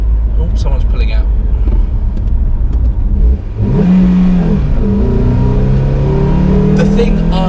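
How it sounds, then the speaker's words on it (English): Renault Twingo RenaultSport 133 hatchback with about 130 horsepower accelerating on a restricted road, a loud engine drone that rises in pitch and sweeps upward, close and steady, with a voice talking over it. "The thing I love most about this car is its engine."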